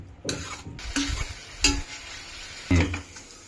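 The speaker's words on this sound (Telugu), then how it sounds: "మీడియం ఫ్లేమ్లో పెట్టుకుని ఆయిల్ వేసుకుని బాగా దీన్ని ఫ్రై చేసుకోవాలి" Bitter gourd pieces frying in oil over a medium flame, a soft sizzle broken by several distinct scraping knocks of a spoon against the pan as the pieces are stirred, spaced irregularly and heard close with no voices.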